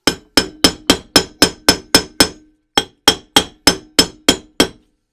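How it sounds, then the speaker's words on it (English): Sharp metallic hammer taps drive a rear hub bearing into a Jaguar independent rear suspension hub in a steady rhythm, eight blows, a short pause, then eight more, each ringing briefly and loud up close. "The hammer basically just bounces."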